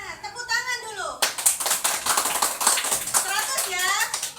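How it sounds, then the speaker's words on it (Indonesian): A classroom of children claps hands together after a brief adult voice, a dense, lively patter of many small hands that holds steady for about three seconds. "Tepuk tangan dulu."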